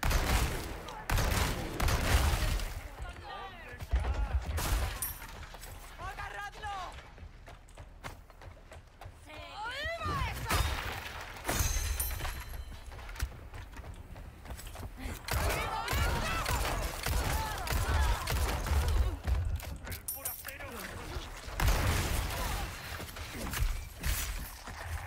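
Gunfire from the Resident Evil 4 Remake, played on Professional difficulty in the Village area, crackles in scattered bursts of quick shots across a busy game soundtrack, with a voice talking over much of it.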